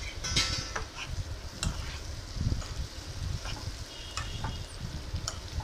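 Cut chayote pieces being stirred into a cooking pan, soft sizzling with repeated scraping and clinking strokes of a spoon, fairly quiet and close, with no talking.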